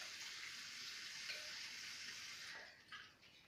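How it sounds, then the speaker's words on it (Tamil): Cut carrots get washed under a running tap, with a soft, steady rush of water that splashes unevenly and tapers off near the end, heard close and quiet with no talking. "கட் பண்ணிவிட்டு லைட்டாக வாஷ் பண்ணிக்கலாம்."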